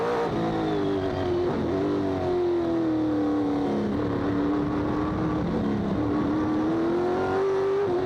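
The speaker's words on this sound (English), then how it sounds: "Wondrous sounding V8 in these sports sedans." A V8 sports sedan races in the 2002 Australian Sports Sedan Championship, its engine note a loud, continuous howl that holds steady and dips slightly as it shifts, heard close from onboard.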